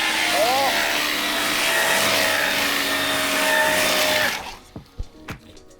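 An RC rally car runs on high-voltage power, its electric motor giving a loud, continuous whirring whine while it drives. The whine cuts off near the end, leaving scattered knocks and bumps.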